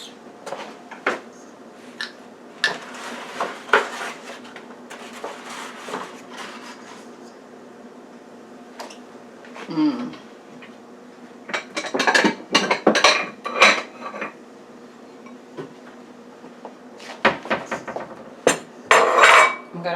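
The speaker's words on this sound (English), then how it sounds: "I'm going to crack the eggs separately so that if a shell or something goes in there, I can get it out." Eggs cracked one at a time into a separate bowl while making cornbread, giving several sharp clinks and taps scattered through kitchen clatter, with clustered bursts of bright knocks near the middle and end.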